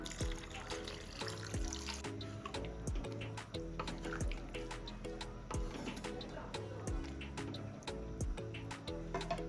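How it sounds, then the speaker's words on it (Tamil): Water is poured into a cooking pot of mutton intestine curry, splashing and dripping in uneven bursts over steady background music. "தண்ணி சேர்த்துக்கிறேன்"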